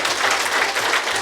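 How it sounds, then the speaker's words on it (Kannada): Sustained applause from an audience after a group meditation at a pyramid inauguration, many hands clapping in a thick, steady patter, fairly close and without speech. "ಅದ್ಭುತವಾದ ಧ್ಯಾನಕ್ಕೆ ಅದ್ಭುತವಾದ ಚಪ್ಪಾಳೆಗಳು"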